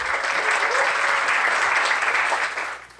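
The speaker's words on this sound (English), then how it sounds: "can we all give a big round of applause for our Build Academy teams?" Audience applause for Build Academy teams at a startup pitch event, a thick, even roar of many clapping hands that holds steady before fading out in the last half second.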